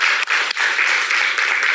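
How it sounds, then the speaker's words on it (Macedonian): Studio audience applause on a game show, dense continuous clapping, loud and close, with brief dips but no pause. "Аплауз."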